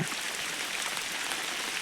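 Steady hiss of rain falling, a dense broadband patter with no breaks and no voices.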